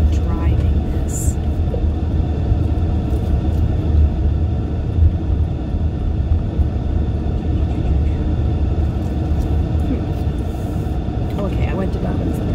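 A car heads downhill from above Dobbins Lookout with a steady, loud engine and road rumble, plus wind roar, for the whole stretch. A few faint higher clicks and squeaks sit on top. The car is heard from inside.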